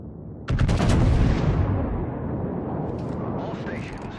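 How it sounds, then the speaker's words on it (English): Warship guns firing in World of Warships: one loud heavy naval gun blast with a long rumbling decay, followed by faint distant booms. "Concentrate fire on the enemy warship."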